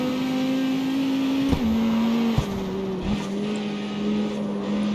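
A race car in the street racing video game CarX Street drives with a steady droning engine tone, shifting pitch a few times with brief clicks between, close and continuous with no talk.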